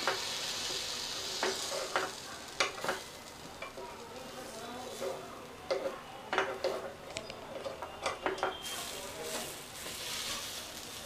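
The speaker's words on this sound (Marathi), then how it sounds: "दुसऱ्या साईडनी पण हे असे छान भाजून घेऊया." Non-fried dahi vada, lentil dumplings, pan-roasting in a shallow pan: a steady, fairly quiet sizzle runs throughout, with scattered close clinks and scrapes of a utensil against the pan.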